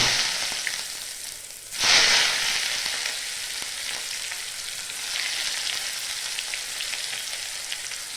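Four or five small onions drop into hot oil with popped mustard seeds, a loud burst of sizzling that settles into a steady crackling fry, close by.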